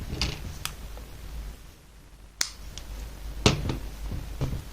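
Scissors snip through crochet yarn in a few sharp, close clicks spaced out over a quiet background.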